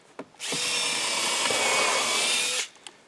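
A power drill drives a lag screw into a wooden ledger board on a building, one steady loud whir lasting about two seconds with a brief start and stop.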